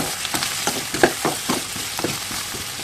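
Onions and sweet potatoes fry in a pan, a steady sizzle broken by irregular stirring scrapes and soft clicks, close and fairly loud with no voices.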